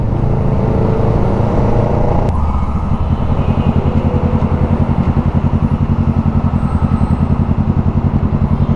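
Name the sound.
Kawasaki Ninja 650 motorcycle riding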